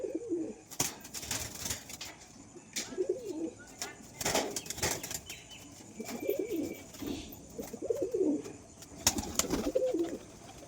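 Domestic pigeons coo in the morning in repeated low, throaty phrases roughly every second or two, fairly close. Sharp clicks and brief rustles are heard between the calls.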